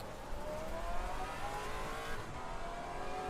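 A Maserati GT4 race car engine roars on track in the Assetto Corsa Competizione racing game, a continuous, fairly loud drone that rises and falls slightly in pitch as the car drives on, with no talk.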